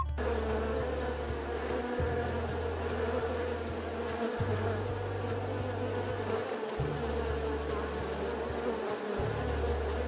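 Steady, dense buzzing of bees fills the whole stretch, with a low droning hum that shifts slightly in pitch now and then, close and continuous.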